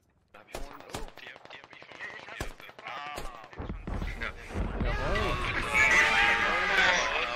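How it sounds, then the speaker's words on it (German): Gunfire in the video game Squad: several sharp, loud shots crack in the opening seconds, then a denser burst of firing builds under excited talk toward the end. "Oh Gott, nein, die schießt auf mich."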